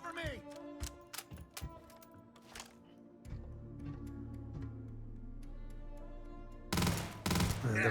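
Gunfire in a modded Starfield game: scattered sharp shots in quick bursts, with a rumbling tone in the middle and a louder cluster of shots near the end, at moderate volume.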